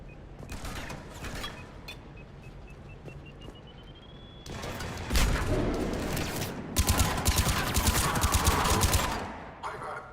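Rapid automatic gunfire and bursts of shooting in the Mass Effect Legendary Edition game, rising to loud, dense volleys in the second half, with a brief electronic tone earlier and a voice speaking over the combat.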